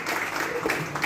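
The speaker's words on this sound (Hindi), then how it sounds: "मैं चाहता हूँ सबके लिए सम्मान के लिए जोरदार तालियां" An audience at a gathering applauds to honor the police and team present, producing a short, dense burst of many hands clapping.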